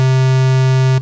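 A steady, hollow square wave from a Roland JX-03 Boutique synthesizer drones at one low pitch for about a second, then stops abruptly.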